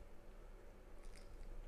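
Faint, close-up crunching and biting as a small kitten chews food, a few crisp crunches over quiet background.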